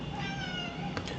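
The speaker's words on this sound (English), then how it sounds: "That was my cat." A house cat meows faintly in a room, a couple of drawn-out tonal cries under a steady background hum.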